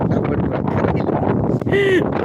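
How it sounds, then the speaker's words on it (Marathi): Steady wind blows across a farm field and buffets the microphone in a loud, continuous rumble that barely varies over the whole stretch. "आता वारा सुटलाय"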